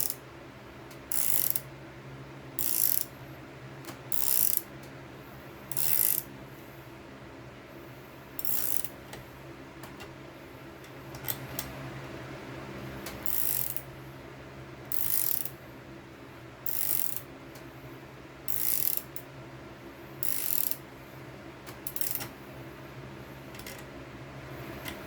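Reusable brass fitting being screwed into an air hose end, heard as a series of short, evenly repeated ratcheting clicks and grinding bursts close to the microphone, each lasting about a second with brief quiet gaps between.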